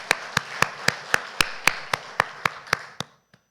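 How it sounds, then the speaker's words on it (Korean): Church congregation at a Sunday daytime service clapping in celebration: about a dozen sharp, evenly spaced claps in a steady rhythm, then a pause and one last faint clap, with no voices. "우리 박수로 축하합시다"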